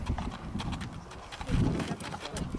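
Horse hooves clip-clop in a quick, uneven rhythm close by on an Icelandic horse ride, with scattered background chatter and a louder scuffing burst midway.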